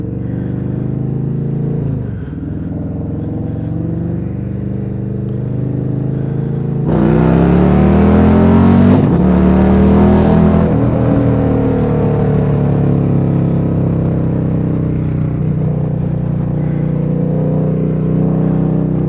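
A bagger motorcycle on a short ride through a neighborhood, its engine droning loud and close throughout, rising in pitch as it accelerates and then settling back to a steady cruise.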